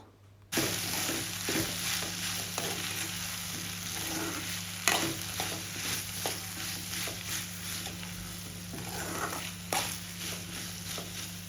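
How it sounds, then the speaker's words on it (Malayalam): Potatoes, onions and curry leaves sizzle and crackle in a hot pan for a potato and brinjal masala, a loud continuous frying hiss with intermittent scraping stirs and spatula knocks, a steady low hum underneath and no talk. "എന്നിട്ട് ഇനി ഉരുളക്കിഴങ്ങ് കൂടി ഇട്ട് നമുക്കിങ്ങനെ വഴറ്റിയെടുക്കാവുന്നതാണ്"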